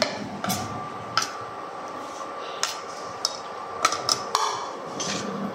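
A spoon stirs a banana and sugar mixture in a cooking pot, with sharp scattered clinks and taps against the metal over a soft steady background hum, sounding close.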